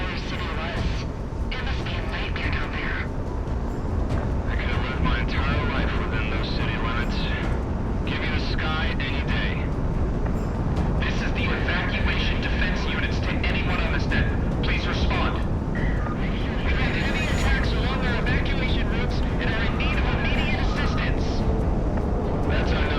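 An F-4 Phantom jet flies in the Project Wingman video game, a constant broad roar of jet noise that runs the whole time, with someone talking over it.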